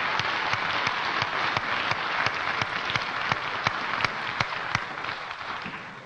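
A studio audience at a television variety show applauds loudly and steadily, a dense wash of clapping that holds throughout with no speech over it.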